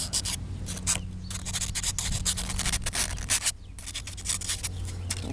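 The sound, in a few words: sanding burrs off with 400 grit sandpaper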